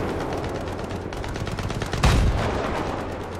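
Gunfire in the video game Battlefield 3, a dense, loud barrage of shots over constant battle noise, with a heavier blast partway through.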